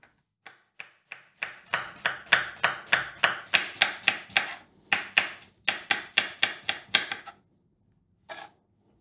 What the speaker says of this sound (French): Je vais émincer mes oignons.